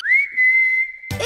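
A single person whistles one sustained, steady note lasting about a second, clear and close against silence, cut off abruptly as other sound begins.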